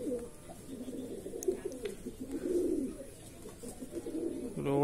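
Andhra Madrasi pigeons coo in a steady, low warbling murmur close by, with soft rustles and faint chirps mixed in, and a louder rising call at the very end.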